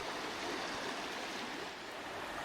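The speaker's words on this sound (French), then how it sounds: "c'est le début de la rivière" The turquoise river at its source in Albania, a steady, close rushing and churning of flowing water filling the air without a break.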